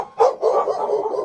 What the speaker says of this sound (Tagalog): Nagulat sila nang may biglang lumapit na aso na tila galit na galit sa lalaki.